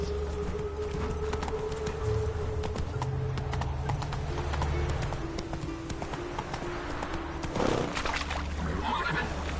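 Geralt's horse Roach gallops in the video game The Witcher 3. Rapid, steady hoofbeats run throughout over a constant low rumble, with a brief snort or whinny near the end.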